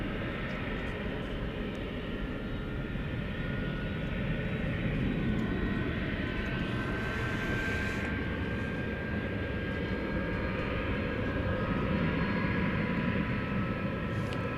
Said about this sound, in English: So this A300 is 21 years old, dating back to the year 2004.